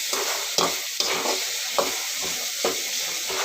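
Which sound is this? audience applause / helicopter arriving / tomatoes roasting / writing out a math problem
tomatoes roasting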